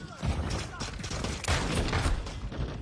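Rapid bursts of gunfire from an online shooter video game, dense overlapping shots and thuds packed into a few seconds, loud and continuous.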